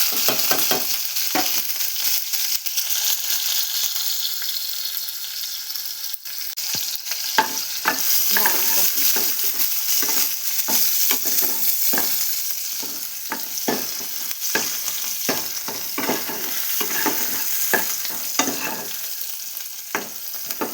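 Green chillies, onion and tomato sautéing in a hot pan, a steady close sizzle broken by frequent scraping stirs of a spoon against the metal.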